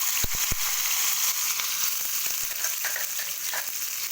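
Garlic, onion and tomato hit hot oil and fry with a steady sizzle. A few sharp knocks open the sound, followed by light crackling and no speech.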